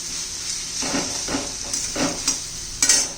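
Capsicum curry in a pan being stirred as red chilli and coriander powder are mixed in: a soft sizzle under several spoon scrapes and light knocks against the pan, close up, with no talking.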